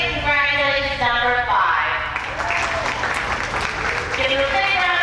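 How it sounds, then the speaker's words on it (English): Clapping from a crowd at a horse-riding academy's prize announcement, mixed with a voice speaking over it, the applause steady and dense throughout. "Give them a big round of applause."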